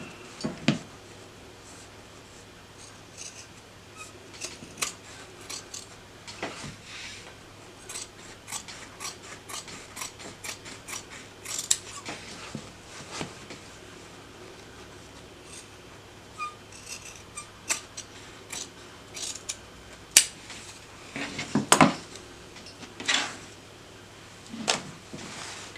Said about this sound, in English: I'm just going to trim this seam allowance down 1/4 of an inch